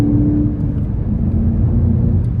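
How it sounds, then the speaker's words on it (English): A VW Golf GTI on 23-inch wheels, driving with a steady, droning low engine and exhaust rumble plus a faint whir, close and continuous with no talk. "Listen to that turbo. Listen to that exhaust."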